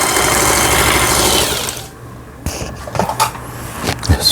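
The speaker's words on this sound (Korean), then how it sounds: "바느질 정상적으로 되고 있습니다" Singer 8280 household sewing machine, freshly repaired, stitching loudly and steadily up close, then pausing and restarting in short uneven bursts of needle clatter.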